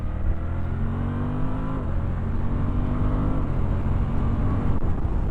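A 2023 Suzuki V-Strom 1050DE motorcycle pulls uphill in second gear with the quick shifter, its engine droning loud and steady, the pitch rising and dipping as the revs climb and shifts break in, with wind rush over it.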